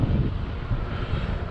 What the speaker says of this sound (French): En plus, il y a le vent de face.